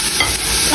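Tomatoes land in a hot frying pan, a loud, close, continuous sizzle over the whole short moment.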